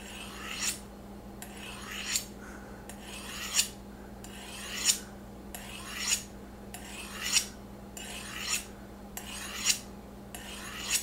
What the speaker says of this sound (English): Consistency is actually the key when we're talking about sharpening. I'm going to go ahead and do 15 strokes on each side.